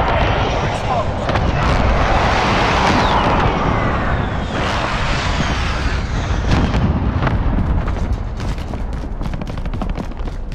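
Airstrike bombs exploding in a Warzone Plunder match, a loud rumbling barrage of blasts and crackling debris spread over several seconds, with sharp gunfire-like cracks mixed in.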